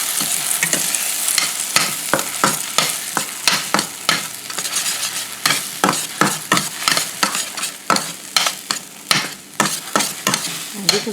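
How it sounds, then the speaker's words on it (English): Eggs fry in a pan while a utensil stirs them briskly, giving close, rapid scraping strokes over a steady sizzle throughout. "Start stirring it up."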